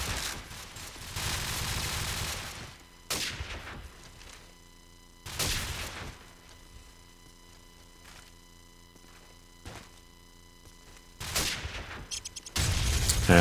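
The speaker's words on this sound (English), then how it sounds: "Thomas playing with the AK, given semi-long range support." Gunfire from a competitive Call of Duty 4 match with an AK in play: loud bursts of rapid shots separated by quieter stretches, with a heavier volley near the end.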